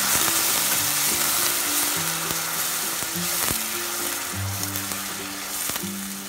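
Onion, ginger and garlic fry over medium heat in a pan for Punjabi chole, making a continuous sizzle with occasional scraping stirs and a low tonal hum in the background.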